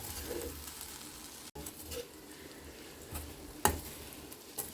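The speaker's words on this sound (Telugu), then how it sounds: "బాగా కలుపుకోవాలి శనగపిండి వేగేంత వరకు కలుపుకోవాలి" Sliced okra with gram flour and spices is stirred in a frying pan, making a soft, fairly quiet sizzle with scattered scraping and tapping strokes of the spoon. There is no talking.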